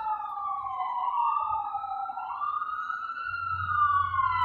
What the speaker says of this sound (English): here's some sirens